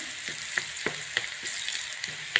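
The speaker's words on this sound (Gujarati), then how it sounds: "બટર ગરમ થઈ જશે ડુંગળી નાખું છું" Onion and chopped red chilies frying in hot butter and oil, a bright crackling sizzle punctuated by regular metallic taps and scrapes of a spatula against the pan, close and clear with no voices.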